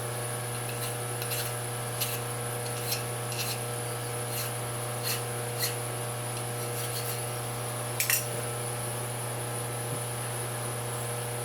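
A machined metal scope ring part for a Browning A-Bolt 3 rifle is deburred by hand: soft, repeated scraping and rubbing strokes over a steady workshop hum, with a sharper scrape near the end.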